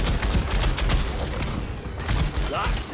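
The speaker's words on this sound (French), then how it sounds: "Je possède une arbalète mitrailleuse" A repeating crossbow in the game Nosgoth fires in a rapid burst of snapping shots, loud and continuous across the moment, with someone talking over it.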